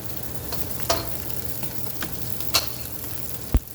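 Garlic fries in a tablespoon of oil with a steady close sizzle, broken by a few light clicks and taps of a utensil stirring in the pan, for a shrimp and ham fried rice.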